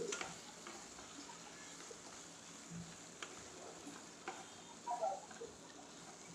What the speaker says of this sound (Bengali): আলু দিয়ে মশলা দিয়ে একসঙ্গে আবার একটু মিশিয়ে কষিয়ে নিচ্ছি